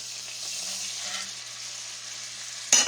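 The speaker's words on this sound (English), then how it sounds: "We're going to put that in and we're going to stir it around a little bit." Gravy with all-purpose flour bubbling and sizzling in a frying pan, a steady close hiss with light stirring, ending in a sharper clatter.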